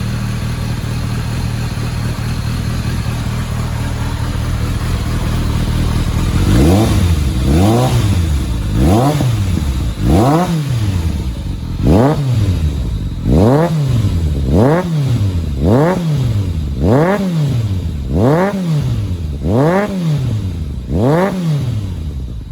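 A 2000 Kawasaki ZRX1100 motorcycle idles in a shop, then its engine is revved again and again in a regular series of rising and falling blips, loud and close with no talk.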